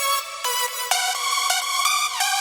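Second layer of a progressive house lead stack: a bright sawtooth-like synth playing a run of short sustained notes with crisp attacks, steady and unaccompanied, no speech.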